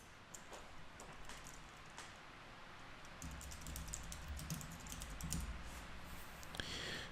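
Quiet, rapid keystrokes clatter on a computer keyboard in irregular bursts, faint against a steady background hiss.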